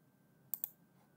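A quick double mouse click at a computer running Cx-Programmer PLC software, two sharp close ticks in a quiet room.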